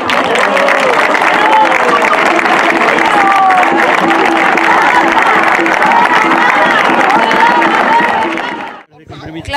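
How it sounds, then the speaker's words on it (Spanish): Crowd clapping and cheering at a political campaign event launching a district campaign in Iztapalapa, loud sustained applause with shouts over it, then a sudden drop near the end. "Brindémosle un fuerte aplauso a los compañeros."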